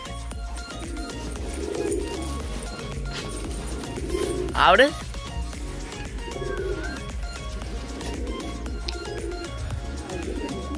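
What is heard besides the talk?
pigeons cooing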